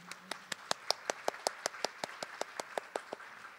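A symposium audience at a panel discussion gives slow, evenly spaced rhythmic clapping, sharp distinct claps at a steady beat, with no talk.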